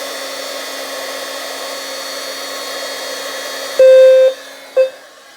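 A heat gun blows hot air onto the side of an SFP-10UD smoke detector, making a steady, close airy whine; near the end a sharp, loud tone sounds twice, the first longer than the second.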